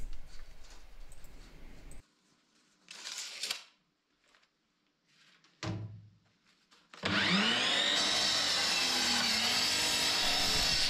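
Woodmizer LT15 sawmill cutting oak boards for a live edge table top, starting after quieter handling sounds and then running as a loud, steady, sustained whine until the end, with no talking.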